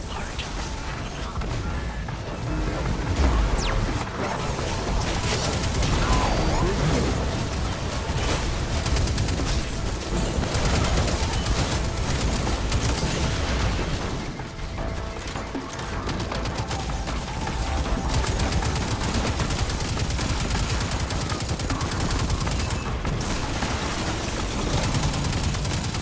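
Suppressing gunfire rattles through a Destiny 2 battle against retreating Vex, a dense, continuous barrage of mechanical clatter and shots layered with game score, steady and loud for the whole stretch.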